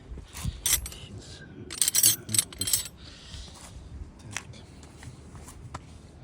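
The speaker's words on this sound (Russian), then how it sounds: "беремо ключик на 10" A 10 mm wrench is picked up and handled while adjusting a Shimano Nexus 3 planetary hub, producing close metallic clinks and jangles in irregular bursts with rustling between, louder in the middle and quieter toward the end.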